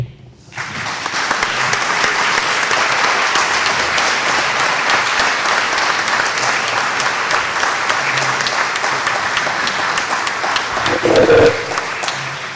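Sustained audience applause at a Clarion Project talk, a dense, loud roar of many hands that swells in after a moment and carries on evenly, with a few sharper bursts near the end.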